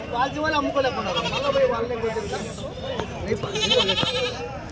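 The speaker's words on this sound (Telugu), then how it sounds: "మేకలు మొత్తం ఉన్నాయి, చాలానే ఉన్నాయి." Goats bleat repeatedly at the Kadiri goat market, held every Tuesday: wavering calls overlap close by above steady crowd babble, with people talking throughout.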